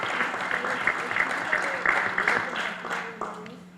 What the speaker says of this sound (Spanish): Le damos un aplauso a nuestro senador compañero.